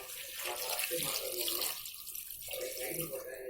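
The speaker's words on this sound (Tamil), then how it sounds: "இப்போது நம்ம வந்து தண்ணி ஊற்ற போகிறோம்" Water runs and splashes steadily into a pot of chicken gravy, a continuous faucet-like rush with brief dips in flow.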